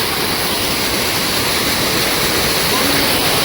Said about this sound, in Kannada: ಒಂದು ಸಣ್ಣ ಫಾಲ್ಸ್ ಥರ ಇದೆ.